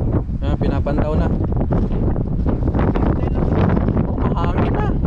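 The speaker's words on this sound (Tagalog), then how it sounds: "Medyo umahangin kasi mga paps." Strong wind blows across a small fishing boat at sea, buffeting the microphone with loud, continuous low rumble and gusty roar throughout, while someone talks under it.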